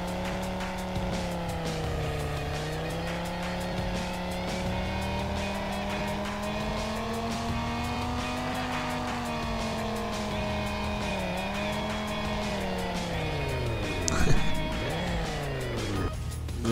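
A car drifting in Garry's Mod, its engine droning steadily with rising and falling pitch while tires squeal continuously through the turns, with a brief louder burst near the end.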